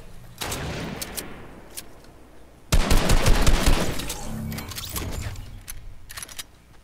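Sniper fire in a video game: a few sharp, loud shots crack out in bursts over a faint background hum, with a heavier burst of gunfire in the middle, and no talking.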